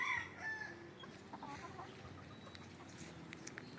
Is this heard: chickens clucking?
yes